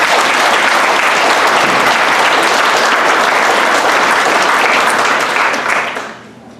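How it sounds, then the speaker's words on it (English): Banquet audience at a Champlain Fire Department dinner applauding its commissioners, a loud, full round of clapping that holds steady for about five seconds before fading out quickly. "I'd like to ask for a little round of applause for our commissioners"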